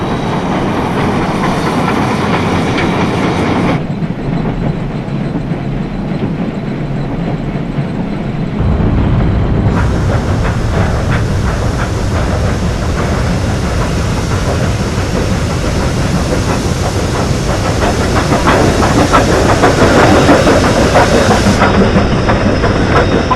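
A steam train rumbles steadily along the rails through gorges in New Zealand, with a constant roar, hissing and rhythmic clatter, loud and close throughout, the tone shifting partway.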